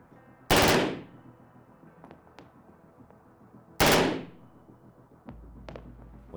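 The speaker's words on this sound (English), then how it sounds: "Almost that chattering that you might sometimes want from automatic weapons" Automatic weapon fire from the Undawn video game: two loud, sharp bursts about three seconds apart, each with a fast chattering attack and decaying tail, with scattered smaller clicks and thuds between them.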